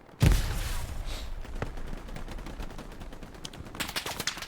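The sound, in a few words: machine gun fire in video game Hell Let Loose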